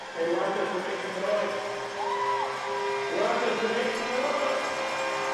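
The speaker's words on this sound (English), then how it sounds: "This crowd is buzzing." A hockey arena crowd at a divisional playoff game keeps up a steady, loud buzz of voices and cheering, with whoops rising over the continuous roar throughout.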